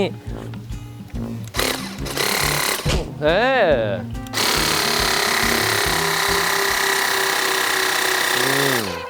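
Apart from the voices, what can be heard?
floor cleaning machine running at high power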